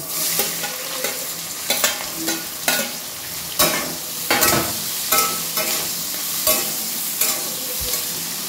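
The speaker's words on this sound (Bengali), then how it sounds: "ক্যাপসিকামটা তেলে দিয়ে দিলাম।" Capsicum frying in hot oil for a Bengali lunch, a steady loud sizzle broken by regular scraping stirs of a spatula against the pan, with no voices.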